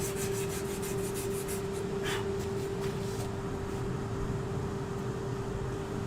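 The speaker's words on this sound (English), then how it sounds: "You're probably all getting bored now with this sanding." Steady abrasive rubbing of sandpaper against a turned wood piece, continuous and close, over a constant low mechanical hum.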